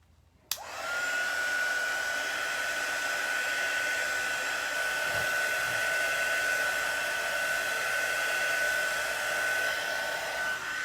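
Handheld dryer blowing on chalk paste over a craft project: switches on abruptly with a click and then runs as a steady, loud, whining whoosh with a constant tone for about ten seconds, alone.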